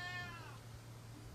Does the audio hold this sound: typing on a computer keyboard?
no